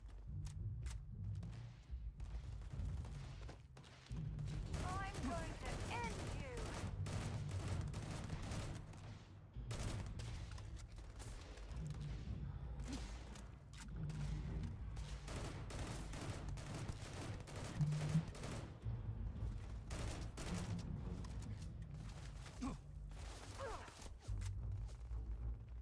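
Sci-fi gunfire during a Starfield combat encounter: repeated bursts of shots and thuds, fairly quiet and somewhat distant, continuing throughout with occasional voices.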